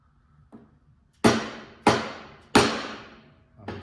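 Bearing races for a Honda K24-swapped Porsche 914 are driven in with a hammer striking a socket used as a bearing driver. One soft tap is followed by three sharp, ringing metallic blows and a lighter final hit.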